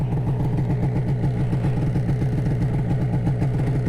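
Snowmobile engine running close and loud in a steady, throbbing mechanical drone with rapid pulsing clatter, sustained without clear rises in pitch, heard from the rider's position.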